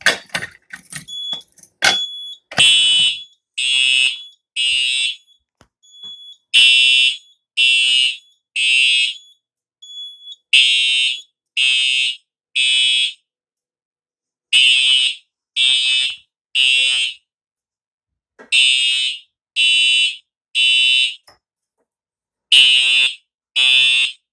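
A newly installed fire alarm panel under test sounds its alarm in repeated loud, piercing bursts, mostly groups of three with short silent gaps, after some brief handling clicks at the start.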